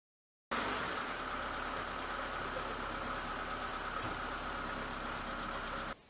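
A Renault Mégane Classic's engine idles steadily and close, a continuous even rumble that starts abruptly and holds without change, with no voices.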